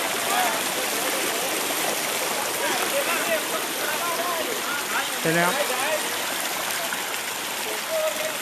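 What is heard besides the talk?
flowing stream at Than Thong waterfall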